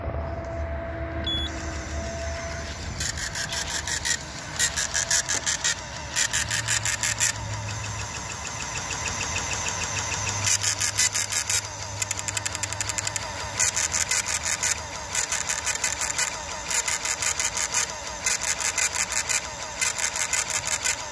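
1985 Ford with an EEC-IV CFI engine running steadily at idle, a continuous low hum under repeated sharp rhythmic clicking bursts, close and fairly quiet throughout.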